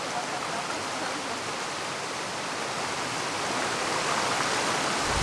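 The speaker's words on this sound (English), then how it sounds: "there's the wine waterfall with its warm water" Waterfall of warm water in Zamora Chinchipe, Ecuador, rushing as a steady, dense, broadband roar that stays loud and even throughout with no talking over it.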